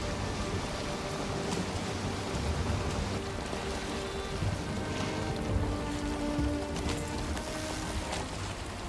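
Steady rain in the video game Valheim patters and hisses continuously on surfaces, an even wash of drops with no voices.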